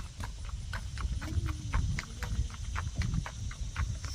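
Gaited walkaloosa gelding, a four-beat racking horse, walking down a paved driveway: steady, even clip-clop of hooves on pavement, moderately close, with a light background hiss and no talking.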